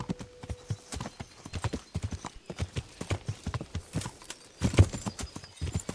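Horse hooves clip-clop in a quick, steady rhythm while riding in the medieval video game Kingdom Come Deliverance, close and continuous, with a brief whinny near the end.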